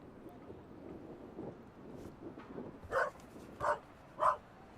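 A dog in The Raven: Legacy of a Master Thief video game gives three distinct barks near the end, each one short and fairly loud. Faint wind-like background noise runs underneath.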